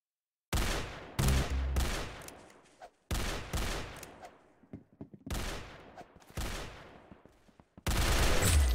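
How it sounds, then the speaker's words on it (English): Pistol gunfire in a video game: several sharp, loud shots fired in quick bursts with short gaps, each ringing out briefly, ending in a dense sustained burst. "Very good shooting."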